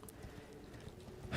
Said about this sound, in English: It's like the only bridge you can actually ride your horse on.